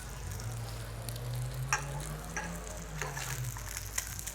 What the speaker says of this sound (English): add the potatoes in there just to brown off a little bit